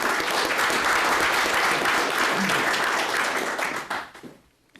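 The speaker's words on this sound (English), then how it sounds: "if we could give her a round of applause in her absence" A roomful of people at a council meeting applauds in a full, continuous burst of clapping that thins out and fades into near silence over the last second.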